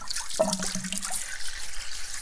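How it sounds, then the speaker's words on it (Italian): Tap water runs steadily into a sink at close range, a continuous broadband splash with a short hollow gurgle near the start, heard alone without talk. "Faccio scorrere l'acqua"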